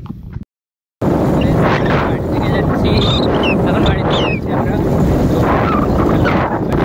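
Loud, blustery wind buffets the microphone almost throughout on a cloudy day out by motorbike, with a brief dropout near the start; a person speaks under the rumble.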